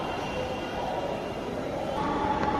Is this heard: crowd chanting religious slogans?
no